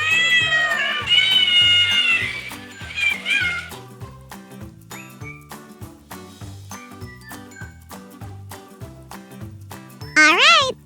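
Animated cats at an animal rescue shelter meow repeatedly while being fed, with higher drawn-out cries at the start and end, over busy background music and clinking.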